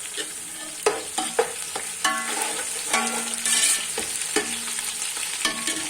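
Garlic sizzles in ghee or oil in a pot for a Pakistani vegetable pulao, with steady frying hiss and several sharp clinks and scrapes of stirring up close, no talking.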